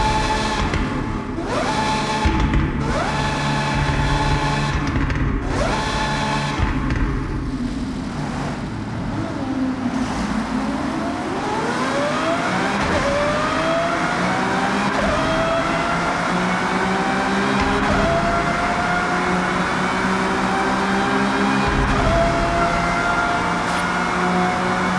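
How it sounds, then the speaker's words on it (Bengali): A Lamborghini Aventador SVJ in Forza Horizon 6 drives through a tunnel, its loud engine roaring steadily for the whole stretch, the pitch rising and falling through revs and gear changes with a reverberant, enclosed ring. "টানেলের মধ্যে এসবিজের সাউন্ড যে এত সুন্দর লাগে"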